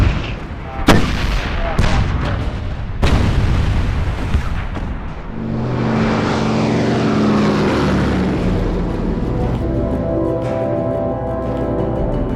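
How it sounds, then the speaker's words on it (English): A World War II artillery barrage pounds away, with sharp heavy blasts early on, then a dense sustained roar of continuous fire and rumbling that swells and holds loud to the end. "It's awesome, a terrific barrage."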